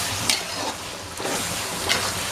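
Spices and coriander powder fry and sizzle in a pot for prawn biryani while being stirred, giving a steady close crackle with brief scraping swells.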